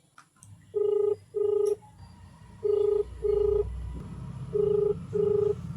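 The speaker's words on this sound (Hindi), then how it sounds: "अरे, पूरी रिंग चली गई," A phone rings in three pairs of electronic tones, evenly spaced, with faint room noise in between and no one answering.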